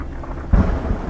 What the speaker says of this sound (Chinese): 下雨了，睡觉睡觉。